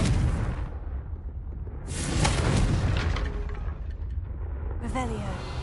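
A Confringo fire spell blasts with a loud, low booming burst in Hogwarts Legacy, its rumbling roar swelling and then fading, with other spell effects crackling and speech audible over the top.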